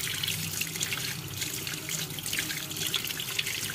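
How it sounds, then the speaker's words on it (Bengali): Running tap water gushes steadily over fish heads being washed in a sink, with splashing and dripping, continuous and fairly close, no voices. "এই যে সব মাছের মাথাগুলো, অনেকগুলো মাথা এনেছে, এগুলো সব ভালো করে ধুয়ে নিচ্ছি।"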